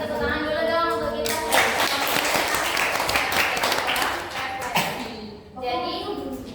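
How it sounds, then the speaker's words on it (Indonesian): Students clapping together in a classroom, a dense burst of applause that starts after a voice, lasts about three seconds and fades back into talk. "Kita beri tepuk tangan dulu dong untuk kita."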